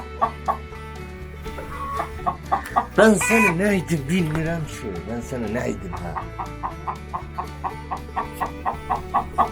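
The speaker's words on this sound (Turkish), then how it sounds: "Bu horoz gitti haberiniz olsun." Rooster clucking in a backyard coop, a steady series of short rhythmic calls with one louder drawn-out vocal burst midway, heard close while someone talks over it.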